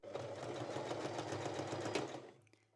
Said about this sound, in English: move to regular sewing machine. Backstitch first